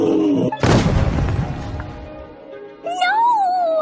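A booming blast in an audio drama crashes in loudly after a brief voice, decays as a rumbling wash over about two seconds, then a tonal, wavering voice-like sound rises afterward.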